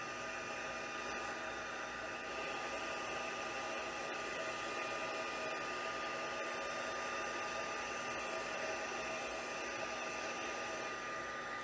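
A die cutting machine for paper crafting runs with a steady, even whirring hum and hiss throughout, quiet and continuous with no talk.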